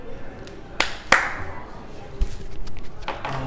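A few sharp hand claps, two strong ones close together followed by fainter taps later, heard over a quiet room background with some faint vocal sounds.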